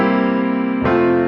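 A ii–V–I chord progression from a pop song: sustained, full harmonic chords ring steadily, then shift to a new chord near the end, with no voices.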